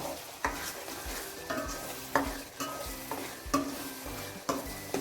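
Chilli masala fries in a pan for sev usal while a spoon stirs it, a steady soft sizzle with regular scraping strokes about every second, close and moderately quiet, with no talking.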